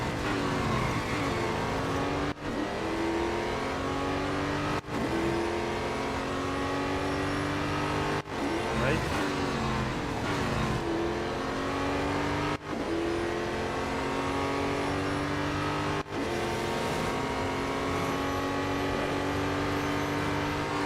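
A race car engine in Real Racing 3 drones loud and steady, repeatedly climbing in pitch under acceleration and dropping sharply at each gear change or braking point, with no voices.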